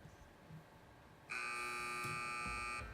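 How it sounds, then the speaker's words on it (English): Quiz competition buzzer in a school trivia semi-final, a loud steady electronic buzz that starts abruptly and holds for about a second and a half over quiet room noise. "wait for the buzzer if you'd like to answer."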